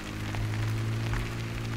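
Steady rain falling in the Farming Simulator 17 video game on the Midtown USA map, a constant even wash of hiss with a low hum underneath, no voices.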